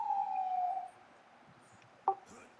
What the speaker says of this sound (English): I live near a hospital, so all the ambulances come and go.